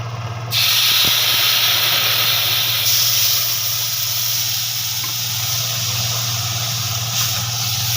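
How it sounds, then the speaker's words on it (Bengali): Chana dal poured into a hot frying pan sets off a sudden loud hiss that settles into a sustained, steamy sizzle over a low hum. "এবার আমি ডালটা ঢেলে দেবো। দেখুন আমার ভাজা হয়ে গেছে।"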